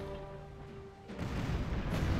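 Fort cannons firing in the pirate video game Tempest: a low boom lands about halfway through, followed by sustained rumbling and crackling bursts, loud and close, with no talk.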